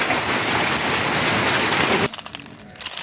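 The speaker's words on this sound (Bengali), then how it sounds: "দর্শক দেখুন কীভাবে পাথর পড়তেছে আমি আর কখন এরকম পাথর আমার লাইফে দেখি নাই" Hailstones pour down during a hailstorm in a dense, loud, continuous pattering roar that stops abruptly after about two seconds, leaving scattered faint drops.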